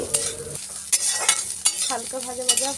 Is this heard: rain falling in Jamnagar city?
no